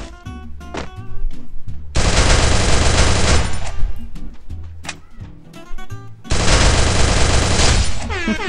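Bursts of rapid automatic gunfire in the Free Fire Max video game, two long loud volleys separated by scattered single shots and clicks, with a player briefly talking.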